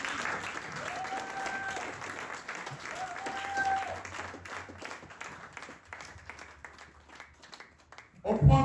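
A church congregation applauds in praise of the Lord, a dense wash of clapping that carries on for several seconds with voices and ringing tones mixed in, then swells louder right at the end.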